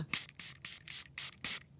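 Makeup setting spray misted in short bursts, about six quick hissing sprays in steady rhythm, close and fairly loud with brief pauses between, no talking.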